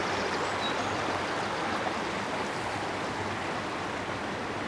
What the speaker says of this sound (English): this is called the River